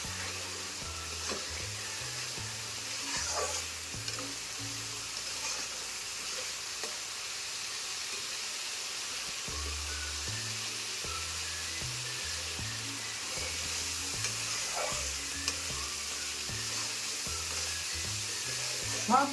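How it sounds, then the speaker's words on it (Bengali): Elephant foot yam and prawns sizzle and fry in a pan, a steady close hiss with occasional stirring scrapes and quiet voices beneath. "এই কষানোর সময় আমি একটু লবণ দেবো, গ্যাসটাকে একটু ধরে দিই।"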